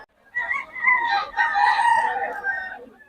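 A stag rooster at a market crows once, loud and close, a single drawn-out call lasting a few seconds.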